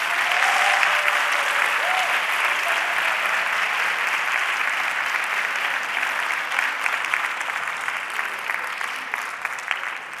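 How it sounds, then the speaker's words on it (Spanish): A conference audience breaks into sustained, loud applause at the start of a talk, a dense wash of many hands clapping steadily for about ten seconds with no voices above it. "quiero otro aplauso más fuerte para que sepan que esto empieza"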